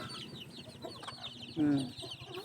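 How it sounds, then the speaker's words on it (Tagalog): Chicks gathering in a pen give soft peeping and clucking chatter over low background noise, with one louder chirp burst near the end, while a person talks quietly. "Naglalapitan ang mga sisiyo."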